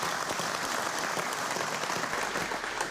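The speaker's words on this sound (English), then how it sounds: "That is worth a round of applause." Steady audience applause at a 1980s racing car show, a dense continuous roar of many clapping hands at moderate level throughout, with no gaps.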